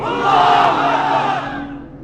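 A large crowd of married men roars a loud takbir in unison at a religious sermon gathering, one swelling shout that holds for a moment and then trails off.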